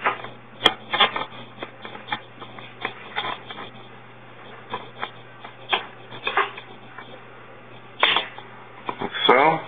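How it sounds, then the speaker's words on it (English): Pin snips cut sheet metal on a Ducati Monster tail section, giving a string of quiet, crisp clicks and snips at an uneven pace, with a couple of louder crunches near the end. "So now we're going to use a pair of pin snips to cut along the line."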